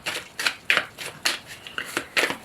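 A deck of oracle cards, Ciro Marchetti's Enchanted Dreams, is cut and handled close by. About eight quick, crisp papery snaps and riffles sound in an uneven rhythm, with quiet gaps between them.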